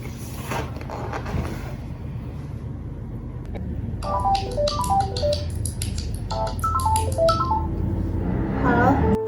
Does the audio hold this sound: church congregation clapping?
no